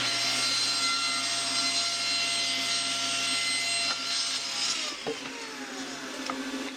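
A power saw cuts through the wooden fence of a table-saw bevel sled, a steady whine with a grinding rasp that drops off as the blade finishes and spins down, followed by faint knocks.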